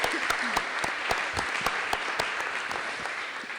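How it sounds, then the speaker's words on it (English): Audience applause closing a youth symposium at the Pontifical Academy of Sciences, a steady wash of many hands clapping with sharp individual claps standing out, continuous and full throughout. "So a big thank you to Dr. Parker, if you could please give her a round of applause."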